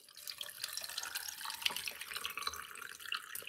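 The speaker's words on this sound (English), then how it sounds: "just put some mint into the water like this, into the cup, and pour some water." Water poured into a cup holding fresh mint leaves, a steady close trickle and splash lasting a few seconds, fairly quiet with no one speaking.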